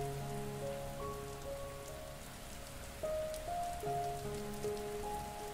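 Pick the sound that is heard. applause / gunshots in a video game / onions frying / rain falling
rain falling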